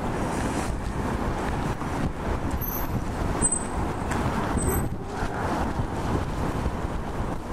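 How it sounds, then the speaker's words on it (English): Strong wind buffets the microphone in a continuous rumbling roar, with gusty surges throughout and no voices, on a -20°C winter street walk in CityPlace, downtown Toronto. "And it's also windy, which is making things worse."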